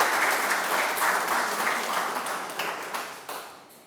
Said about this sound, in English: Can we have a huge round of applause for our dignified speaker?